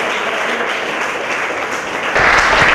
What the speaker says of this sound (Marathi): शाबास, एकदा टाळ्या होऊन जाऊ द्या.